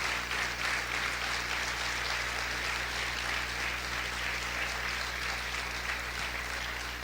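Sustained congregational clapping in praise of Jesus Christ at a Spanish-language church service, dense and even throughout at a steady moderate volume with no talk rising above it.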